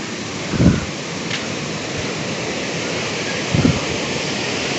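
River flowing gently along a hiking path at Baturraden, a steady broadband rush of moderately loud water with two brief louder thumps that stand out.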